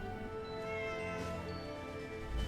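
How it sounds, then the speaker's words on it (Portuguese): A small cat meows inside the Fallout 76 video game, a soft, drawn-out call that stays fairly steady over a busy background of in-game ambience. "Tem um gatinho por aqui também"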